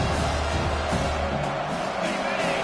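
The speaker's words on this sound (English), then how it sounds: "Listen to this crowd just shaking the girders of this place, trying to help their defense." Stadium crowd roaring in the NCAA 25 college football video game, a dense, continuous loud roar that stays steady throughout, with low rumble underneath.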